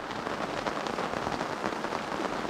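A short rain downpour in the Victorian high country beside the Wonnangatta River makes a steady, dense hiss of drops drumming on surfaces, fairly soft and unbroken, with no voices.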